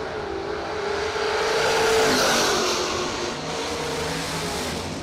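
Drag racing cars, one a Camaro, roaring hard down the strip at a race meet, a loud continuous engine blare that swells and eases with no voices over it.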